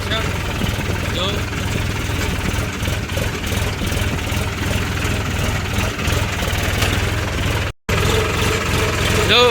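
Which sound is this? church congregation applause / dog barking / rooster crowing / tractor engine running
tractor engine running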